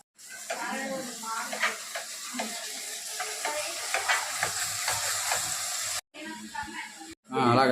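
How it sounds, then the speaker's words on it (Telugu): Chicken curry being stirred in a pan, with scraping, sizzling bursts and a steady hiss, broken by two brief gaps near the end, while a voice talks over it. "అలాగా తిప్పు, ఇలాగా జాగ్రత్త కలపాలి"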